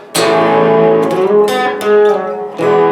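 A guitar plays a short riff with notes sliding up and back down, sustained and ringing, with a few sharp plucked attacks and no voices.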